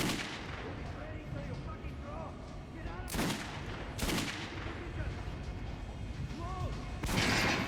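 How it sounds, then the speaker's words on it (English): Weapons fired at a training dummy on a range in the video game Metro: Last Light Redux, with a few loud, widely spaced gunshot blasts over a steady low background and faint speech-like sounds in between. "Try out the rest of the weapons you chose. Try shooting for the center of the dummy's chest."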